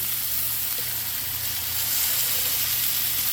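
Onions sizzling on a hot griddle while being scooped for a smash burger taco, a steady close hiss and crackle running throughout with no talk.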